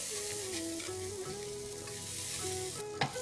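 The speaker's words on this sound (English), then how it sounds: "Give this a quick mix." Soaked flattened rice being stirred into caramelized onions and turmeric frying in a pan, a steady close sizzle with scraping stir sounds and a sharper clatter near the end.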